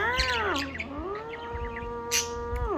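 A pet budgie chirps and warbles up close, with a few sliding tonal calls and short chirps over about three seconds and no talking.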